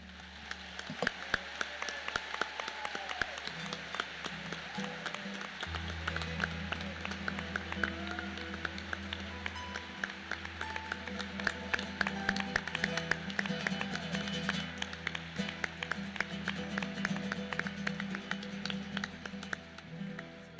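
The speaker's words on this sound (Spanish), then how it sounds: "Si ese aplauso es para Jesús, estuvo muy bajito" Church congregation applauding in a large hall, steady dense clapping that runs throughout at moderate volume with a low musical drone underneath.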